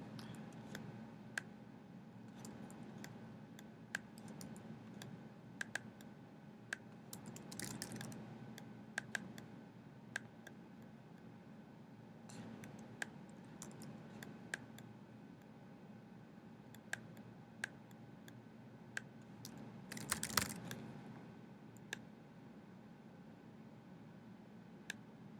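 Typing on a computer keyboard in a quiet room, with scattered sharp key clicks at an irregular pace, plus a few denser bursts of keystrokes over a faint steady hiss.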